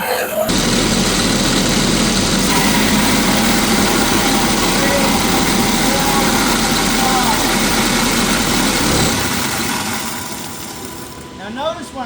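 A car engine driving an automatic transmission on a dynamometer at around highway speed gives a loud, steady, close roar that holds for about nine seconds and then winds down and fades near the end.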